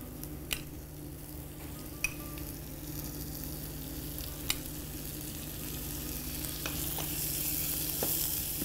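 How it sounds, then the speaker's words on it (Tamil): Chopped medium tomato pieces going into a frying pan and being stirred, a steady low sizzle with a few sharp clicks of a spoon against the pan, close and alone. "இப்போ நம்ம இதில் வந்து கட் பண்ணி வச்சுருக்க தக்காளி ஆட் பண்ணுறோம்"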